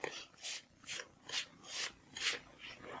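Crumble topping for a plum cake is mixed by hand, giving soft rhythmic gritty rubbing strokes, about six evenly spaced swishes, close and quiet.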